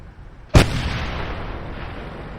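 A single loud tank cannon shot fires in World of Tanks, a sharp close blast followed by a long rumbling tail that fades over two seconds, with no talk.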